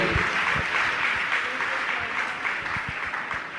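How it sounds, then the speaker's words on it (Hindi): Audience clapping loudly at a Jain religious gathering honoring guests, a dense steady patter of many hands with sharp individual claps standing out, continuing throughout. "जोरदार जोरदार तालियां बजती रहनी चाहिए"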